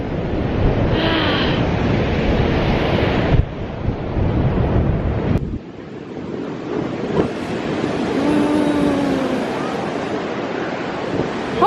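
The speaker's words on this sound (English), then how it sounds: "Oh, look at this! The waves are insane." Surf rolls onto Iceland's Black Beach under strong wind, with loud, steady wind buffeting the microphone and broad crashing wash that swells and recedes across the whole stretch, near and continuous.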